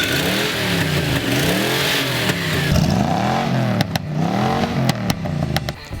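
Plymouth Duster engine revving hard outdoors at a desert festival camp, loud repeated throttle swells rising and falling, with sharp clicks and knocks near the end.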